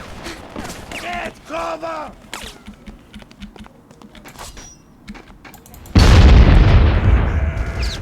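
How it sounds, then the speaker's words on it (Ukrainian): Gunfire and clicks in the video game BloodRayne give way to a sudden loud grenade blast that fills the last two seconds with a heavy rumbling roar, with speech faintly underneath. "Чи гранати вони кидають?"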